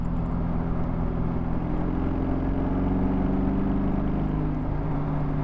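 A BMW R18 Transcontinental motorcycle engine pulls hard under open throttle, a steady low rumbling drone with a rising tone, heard up close from the rider's position under wind noise.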